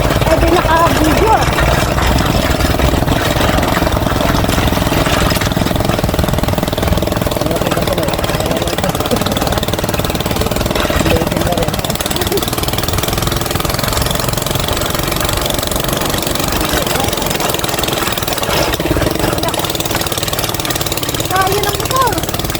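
A motorcycle engine runs steadily and loudly throughout on a very rough road, a continuous low rumble with road noise and occasional voices underneath.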